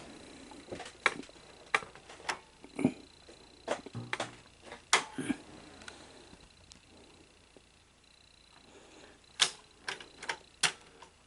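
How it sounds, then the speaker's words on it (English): A sticking solenoid in a Sony SL-HFR70 video recorder makes sharp, irregular mechanical clicks and clacks, close and dry, arriving in scattered bursts with quiet gaps between them and no talking. "that solenoid is definitely sticking"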